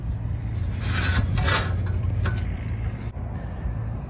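A metal frame piece slides into place on a 1959 Impala frame, giving a steady close scraping rub of metal on metal that swells in the middle and trails off, with no talking.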